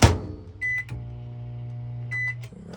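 A microwave oven inside a camper hums steadily as it runs, with short electronic beeps near the start and again toward the end, close and clear, with no talk over it.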